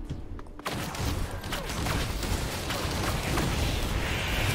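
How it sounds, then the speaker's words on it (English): Explosions in the video game Risk of Rain 2, a sharp burst followed by a continuous rumbling barrage of overlapping blasts and crackles that keeps going to the end. "More explosions."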